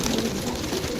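Pigeons at a bird sale in Jhelum, Pakistan, coo in a short, low, steady murmur of several overlapping birds close by.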